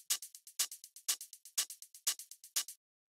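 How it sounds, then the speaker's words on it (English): Crisp electronic hi-hat samples from a melodic techno track ticking in a steady pattern, louder open hits alternating with quieter closed ticks, dry and alone for about three seconds before stopping. "So then the last thing that we have here are these hi-hats, which sound like this."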